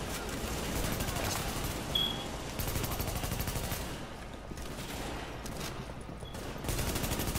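Rapid bursts of automatic gunfire from a player running and shooting in The Division, loud and near, coming in repeated volleys with short gaps between them.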